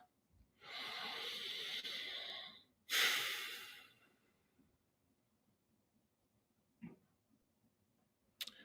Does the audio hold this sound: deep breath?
yes